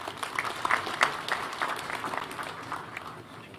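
An audience at a university graduation ceremony applauds, a moderate wash of many hands clapping that fades gradually, slightly distant.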